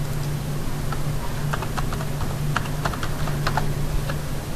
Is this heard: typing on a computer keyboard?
yes